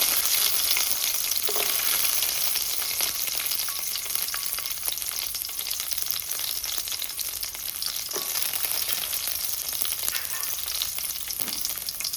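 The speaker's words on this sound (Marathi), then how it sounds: "कांदो, टोमाट, ओली कोथमीर आनी आलें आनी लसूण हें आतां आमी सगळें भाजूया." Onion, tomato, fresh coriander, ginger and garlic fry together in a pan with a steady, dense sizzle and crackle, broken now and then by the scrape of a spoon stirring, with no talk.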